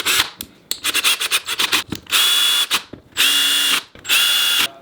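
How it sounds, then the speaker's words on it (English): A power drill drives screws while a KitchenAid stand mixer is reassembled, with a stuttering run of short clicking pulses followed by three longer, steady whirring bursts separated by brief silences, loud and close. "So now let's start screwing it all back together."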